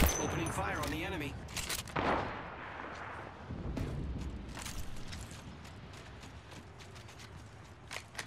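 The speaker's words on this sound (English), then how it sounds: "Opening fire on the enemy." Automatic gunfire from the Apex Legends video game, rapid bursts and clatter of shots throughout with in-game voice lines over a busy battle mix.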